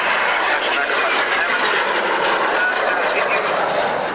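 A jet aircraft powered by a 4850-pound-thrust Ghost engine flies at the 1998 Middle Wallop Army Air Corps airshow, producing a loud, continuous high-pitched whine and roar that fills the whole stretch.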